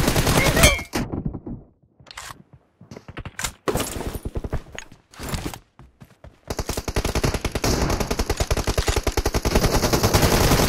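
Gunfire from a PUBG Mobile team deathmatch, heard as rapid automatic bursts and scattered single shots with short gaps between them, then a dense, sustained stream of fire toward the end.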